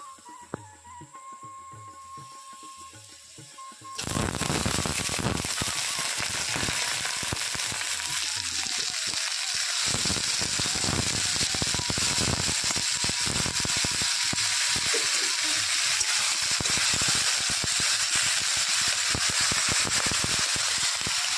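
Onions and chopped banana flower frying in a hot pan, a loud, dense, continuous sizzle that bursts in suddenly after a quieter start and crackles steadily to the end.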